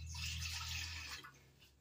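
Water, vinegar and pickling salt poured into a pot for pickling corn, a steady close splashing liquid pour that thins out near the end, with no talk.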